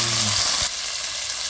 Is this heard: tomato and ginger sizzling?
yes